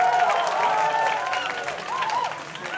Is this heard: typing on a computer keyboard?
no